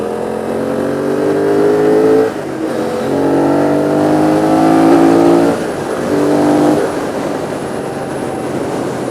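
A BMW F 900 R motorcycle engine revs on a ride in Mumbai, rising in three loud, close pulls separated by brief drops in pitch.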